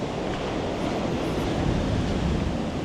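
Ocean waves breaking below a cliff edge on the coast of Japan, a steady, loud broadband roar of surf mixed with wind buffeting the microphone, continuous and without speech.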